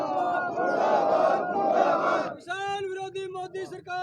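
A crowd of protesters chants slogans against FCI privatisation, massed voices shouting loudly and close together, then one voice rises alone in sharp, shouted calls.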